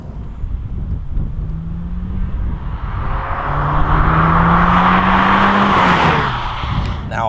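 An Audi S1 engine drones steadily as the car drives in auto mode with its TDI tuning box off, pitch rising gradually under road and wind noise, with no talking.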